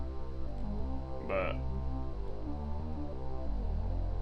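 Mono VCO synth bass line with EQ applied, playing sustained low root notes beneath a brief brighter sweep, loud and steady throughout, with a single spoken word over it.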